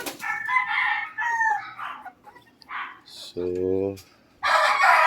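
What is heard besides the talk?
chickens crowing and clucking, 3-month-old roosters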